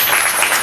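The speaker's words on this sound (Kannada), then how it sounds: "ಇಲ್ಲಿ ಗಮನಿಸಿ, ಚಪ್ಪಾಳೆ ದೇವ್ರ ಮಹಿಮೆಗ" A congregation at a Kannada Sunday church service clapping for God's glory, a brief, dense burst of many hands applauding close and loud, lasting under a second.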